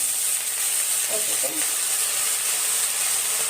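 Tomato, curry leaves and mint sauté in a pan for a mint chutney, giving a steady, bright sizzling hiss that runs throughout, with a faint voice underneath.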